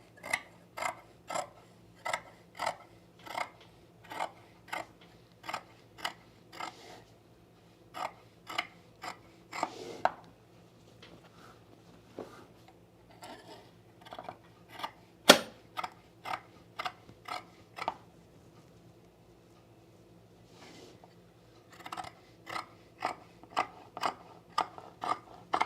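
Scissors trimming the front leg of sewn pants, a steady run of crisp close snips and clicks in even rhythm, with brief pauses and a louder cut partway through.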